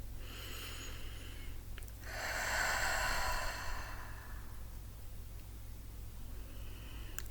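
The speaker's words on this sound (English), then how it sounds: "Take 3 deep cleansing breaths now." A slow, deep cleansing breath during a guided meditation, drawn in through the nose and let out through the mouth, rising to one soft, breathy swell before fading back into quiet room hush.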